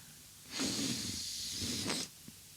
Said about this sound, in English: You're supposed to just spray it up inside the nose.